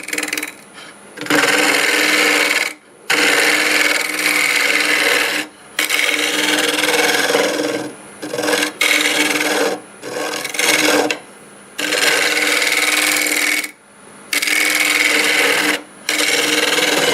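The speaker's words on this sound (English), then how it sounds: "I think I'll use this smaller negative rake scraper. Just kind of blend that in." Small negative rake scraper working a wooden burl bowl spinning on a lathe, a loud steady rasping scrape in repeated passes of a few seconds each, broken by brief pauses between cuts.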